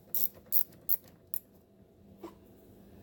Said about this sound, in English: you can turn the ratchet this way and just use it almost like a nut driver also